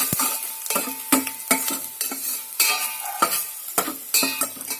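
Finely chopped ginger and garlic frying in a hot pan for mutton chilly, with steady sizzling broken by repeated stirring scrapes and clinks of a spoon against the pan, close and fairly loud, no talking.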